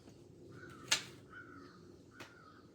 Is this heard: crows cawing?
yes